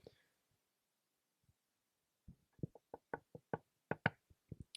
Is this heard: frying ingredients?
no